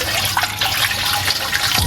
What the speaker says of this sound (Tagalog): So, lagyan natin siya ng tubig.